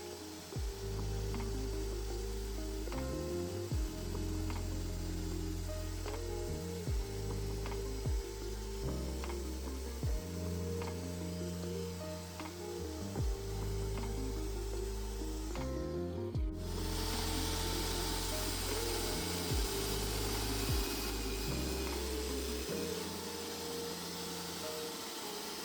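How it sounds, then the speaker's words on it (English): A drum sander grinding down a wooden mosaic workpiece, a loud continuous motor drone broken by repeated rhythmic passes as the wood is fed through, with a brief shift in tone near the end. "as I'm going down in depth and I'm drum sanding it down"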